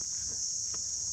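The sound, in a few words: crickets chirping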